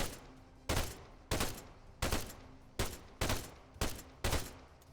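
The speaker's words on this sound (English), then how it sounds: "Machine gun. 300 meters. Northeast. There's some suppression." Machine gun fire in the military shooter Arma 3 comes as a string of evenly spaced loud bursts, roughly eight over five seconds, each with a short decaying tail.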